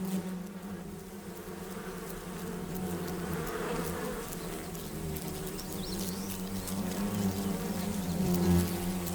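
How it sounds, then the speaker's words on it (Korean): Asian giant hornets drone steadily at their large multi-layered forest nest, a dense, continuous buzz close by with a slight swell near the end and no voices. "제법 여러 층으로 이루어진 이 집의 주인은 장수말벌이다."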